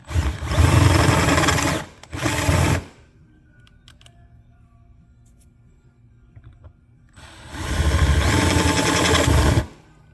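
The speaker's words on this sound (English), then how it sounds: "I'm just going to start stepping up in drill bit sizes until the rivet heads come off" A power drill boring out rivet heads on a TRX250R clutch basket with stepped-up bits, two loud whining bursts near the start and a longer one at the end, with quiet pauses between.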